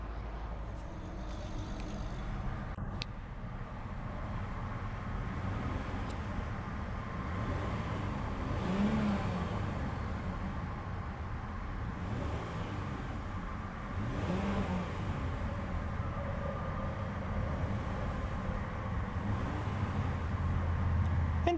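A 2014 Hyundai Azera Limited's 3.3-liter V6 idles and revs in slow swells, its low rumble rising and falling several times, steady and moderately loud with no talking.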